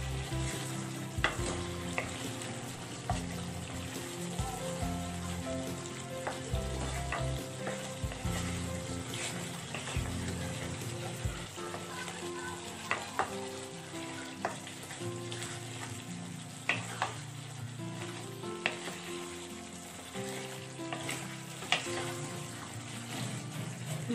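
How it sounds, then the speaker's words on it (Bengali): Spices and salt frying in a pan while being stirred, a steady dense sizzle with frequent scraping and clinking strokes of the spoon, close and continuous. "ও স্বাদ মতো লবণ দিয়ে ভালো করে নাড়িয়ে দিলাম"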